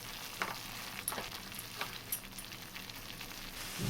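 Paneer roasting in a pan for ghee roast, a soft continuous sizzle with faint stirring scrapes and light crackles, fairly quiet and steady.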